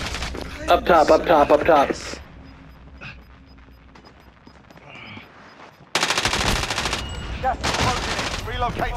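Loud bursts of automatic gunfire in Call of Duty: Modern Warfare Warzone, rapid sustained volleys in the final seconds, with someone shouting over the game sounds early on.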